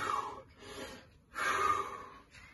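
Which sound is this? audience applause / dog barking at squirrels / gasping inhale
gasping inhale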